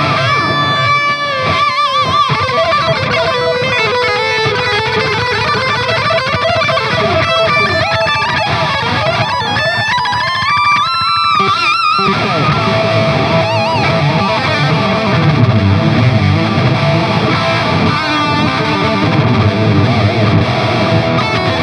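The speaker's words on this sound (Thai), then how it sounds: "จะลองเปิดดีเลย์ไทม์สุดไปเลยนะแบบที่ผมชอบ" Distorted electric guitar plays through a Musiwewe Light Purple delay pedal set to maximum delay time, loud sustained notes and chords trailing into long echoing repeats, with no talking.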